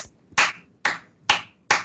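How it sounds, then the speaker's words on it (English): Four sharp, separate claps ring out at an even, unhurried pace, close and fairly loud, with near silence between them and no talk; a lone pair of hands rather than a crowd's applause. "let's give a round of applause to Zikri Qayyum for his effort in doing this video"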